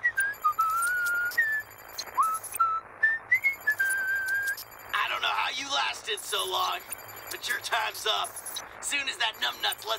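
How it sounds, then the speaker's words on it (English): Character in the video game Sunset Overdrive whistling a cheerful tune, a clear wavering melody in short phrases over quiet game ambience, followed by busier game noise and someone talking. "There he is, whistling a happy tune."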